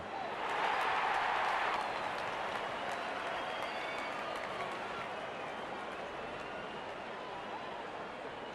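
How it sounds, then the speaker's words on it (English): A cricket crowd cheers and applauds as the openers walk out for a five-over Pakistan vs England match, a broad roar that peaks in the first couple of seconds and then settles into a steady, sustained wash of crowd noise. "Openers walking in and the crowd cheering in anticipation."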